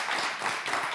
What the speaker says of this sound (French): Bravo, on s'applaudit. On s'applaudit très très fort.